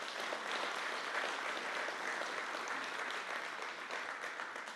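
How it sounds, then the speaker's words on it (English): An audience claps steadily at a performing arts center ribbon-cutting ceremony, the sustained applause heard from a distance, moderately quiet and tapering slightly at the end. "Give this center another hand clap."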